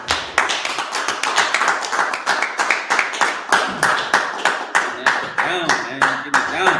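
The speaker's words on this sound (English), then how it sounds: "Clap it up." A church congregation at a Sabbath service claps in a fast, steady rhythm, sharp hand claps repeating close and loud for several seconds with no talk.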